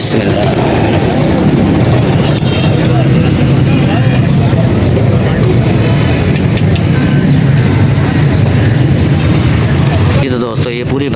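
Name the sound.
Suzuki GS 150 motorcycle engine running and being switched off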